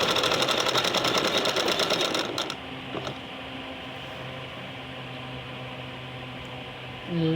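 A sewing machine stitching a lab seam in fabric runs loud and steady for about two seconds, then stops, leaving quiet room noise with a faint hum and a brief knock.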